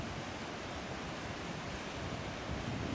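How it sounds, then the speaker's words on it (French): Strong river current on a Pacific Crest Trail hike, a steady loud broadband rush of moving water with no pauses, close by and alone throughout. "Ça, c'est la rivière en question."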